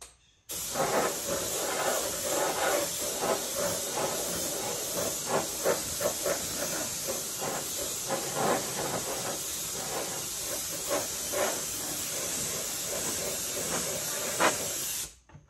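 Continuous hiss of an aerosol or airbrush spray laying light, even candy coats over a chrome base on a 1956 Ford RC car body, steady and close with brief pulsing passes, no talk.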